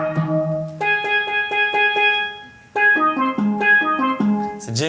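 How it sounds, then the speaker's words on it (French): Bright, ringing steel drum notes play a short melodic phrase, pause, then continue with a rising run, clear and close with no voices. "c'est un son de steel drum"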